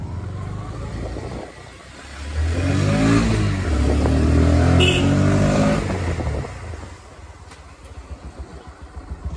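A motorbike engine revs up loud and close as it is brought in to park near a temple in Himachal Pradesh, swelling for a few seconds then dropping back to a quieter idle with outdoor ambience.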